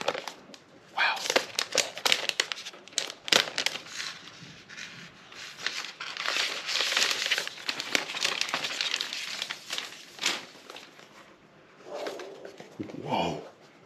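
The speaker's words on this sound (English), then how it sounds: "So let's go ahead and get this plastic off of it." Protective plastic film is peeled off a new MacBook Pro M1, giving a long run of loud, close crinkling and tearing rustles in bursts over about fourteen seconds, with occasional voices in between.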